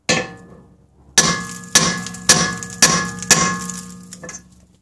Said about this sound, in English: and whack it with another hammer.